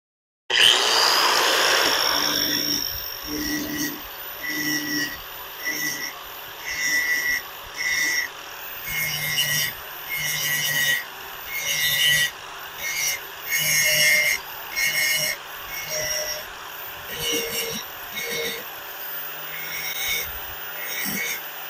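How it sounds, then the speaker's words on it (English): A power tool grinds glaze spots off a ceramic kiln shelf: a sharp, close whine starts loud, then settles into a series of rhythmic rasping passes that rise and fall roughly every second or two. "I'm going to try and grind some of this out."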